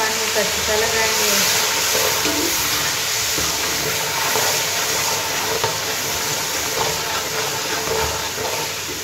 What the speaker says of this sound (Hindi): थोड़ा सा पानी का छिटा लगाएंगे।